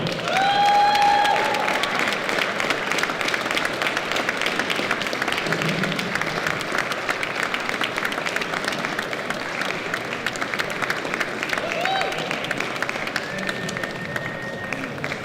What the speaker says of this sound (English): need a huge round of applause